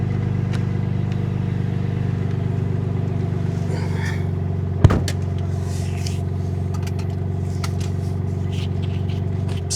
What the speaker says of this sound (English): Valvetronic muffler connected to a full custom catback exhaust. That's what's making the sound of this engine right here